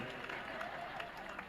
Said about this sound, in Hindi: ताली बजाओ उस लड़के के लिए